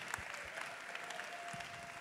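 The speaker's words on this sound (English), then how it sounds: "Let's give it up for Brandon, Christopher, and Alonzo" Sustained applause from an audience honoring performers at a Juneteenth celebration, a steady broadband clatter of many hands clapping throughout, fairly quiet and distant with no talk over it.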